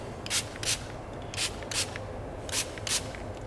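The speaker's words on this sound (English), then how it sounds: "So let's give this thing one more spray here" Grease lubricant sprays onto a Glock pistol in six sharp hissing bursts, grouped in pairs with pauses between, close and clear over a faint background hum.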